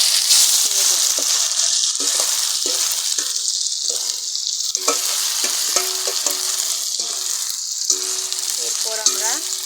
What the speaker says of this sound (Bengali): তেলের ভিতরে করলাগুলা দিয়ে দেবেন।